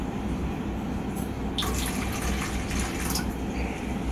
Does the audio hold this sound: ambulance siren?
no